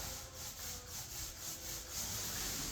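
An 18 inch paint roller works paint onto drywall with a rhythmic, close swishing and rubbing, repeated strokes rising and falling steadily without talk.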